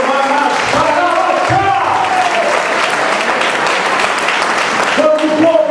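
A church congregation applauds loudly and continuously, a dense wash of many hands clapping, with voices calling out and shouting over it throughout.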